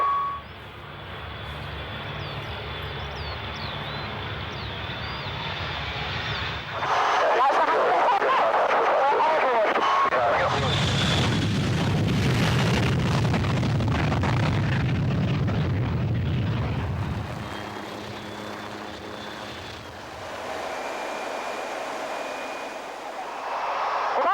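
A de Havilland Vampire jet with a Rolls-Royce Goblin engine, heard from inside as it accelerates, giving a loud sustained roar and rumble that swells midway and stays strong to the end, with a faint high whine throughout.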